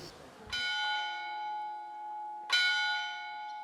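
Church bells in the small Abruzzo mountain town of Salle strike twice, about two seconds apart. Each clear, resonant toll hangs and slowly fades.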